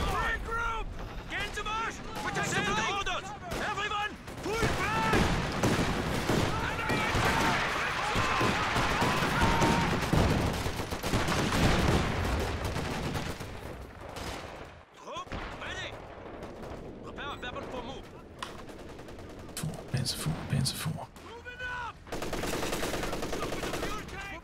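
Rapid game gunfire from Company of Heroes 2 during an early match with an AA halftrack, dense bursts of machine-gun and rifle shots layered with explosions and unit voice lines throughout.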